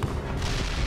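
A bridge blown up in the Call of Juarez: Bound in Blood video game, a loud, continuous rumbling blast that fills the whole short moment without letting up.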